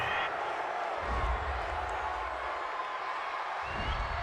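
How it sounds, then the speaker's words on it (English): The home crowd at an NFL game, Carolina Panthers against Arizona Cardinals, makes a broad roar of cheering in a stadium. The noise is continuous and swells under an announcer talking. "This home crowd, they're happy with that call."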